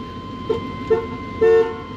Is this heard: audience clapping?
no